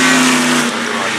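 A 1936 Maserati Grand Prix car runs at the Goodwood Festival of Speed hill climb, its engine close and loud with a steady droning tone that drops off sharply partway through.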